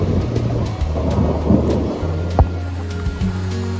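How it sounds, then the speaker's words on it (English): Thunder rumbles low and heavy through steady rain during a storm on a trip in northern British Columbia, with a sharp nearby crack midway among sparse drips. "And thunder and lightning rolls in."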